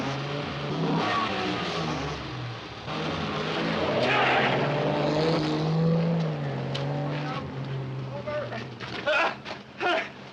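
A car revs hard and pulls away amid a chase on foot, its engine loud and rising over shouting voices, with a few sharp bursts near the end.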